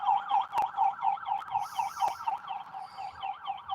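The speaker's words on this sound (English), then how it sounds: "Yeah, that's an ambulance." An ambulance siren yelps in a rapid, regular warbling cycle, moderately loud with a few brief knocks and background noise, sounding like it draws closer along a street.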